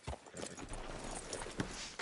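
Horse hooves clip-clop in Red Dead Redemption 2 as a rider moves through a town, several close, quick hoofbeats under faint ambience.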